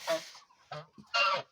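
Farmyard geese honk loudly and close by in three harsh bursts separated by short pauses, with no one speaking.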